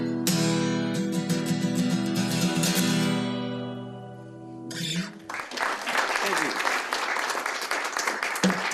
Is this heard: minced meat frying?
no